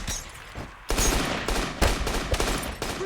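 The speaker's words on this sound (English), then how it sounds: "Is that an AR-15? The amount of fire coming in." Dense automatic gunfire from a John Wick action movie scene, with rapid repeated bursts and sharp shots crackling over a roaring background, loud and continuous throughout.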